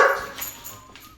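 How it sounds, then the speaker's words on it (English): A dog gives one short, sharp bark up close, then the sound quickly trails off into quiet. "He's a grumpy doggy."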